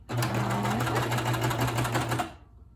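A Babylock coverstitch sewing machine runs in one continuous stitching burst, a steady rapid whirring hum that stops abruptly near the end, loud and close.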